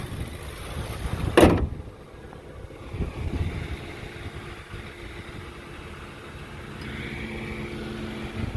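A 2009 Ford Crown Victoria P71 police-package sedan has a door shut with a sharp thud, followed by a low engine idling and rumbling steadily in the background.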